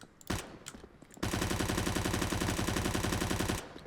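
Automatic rifle fire in Counter-Strike: Global Offensive, a couple of short bursts followed by a sustained rapid spray of close, loud shots that stops abruptly.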